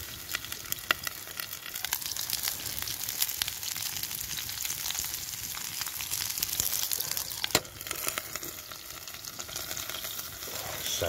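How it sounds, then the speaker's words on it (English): Onions, chilies and sausage sizzle steadily on a foldable TF Bitty Big Q grill at a wild camping spot in Scotland, a continuous close, bright frying crackle with occasional sharper pops and no talk. "sizzling."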